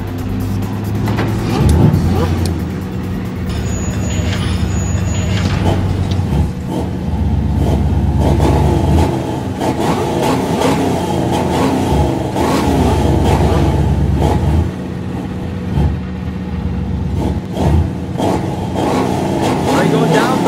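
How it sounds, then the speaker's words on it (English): Two Batmobiles race down a quarter-mile straightaway, their engines roaring and revving loudly up close with surging acceleration, and people speak over the sustained motor noise. "The two Batmobiles will be racing in a quarter-mile straightaway"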